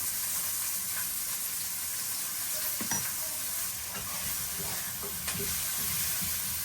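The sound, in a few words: potatoes frying in oil with cumin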